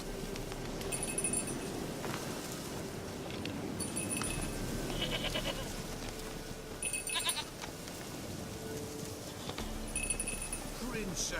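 Goat bleats from The Witcher 3: Wild Hunt, several short calls at intervals, moderately near, over steady game ambience and background music.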